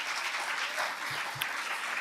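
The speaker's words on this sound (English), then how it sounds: "at least they're clapping everyone" Applause in a council chamber during a meeting, a broad, even wash of many hands clapping at moderate loudness, with a couple of faint low knocks partway through.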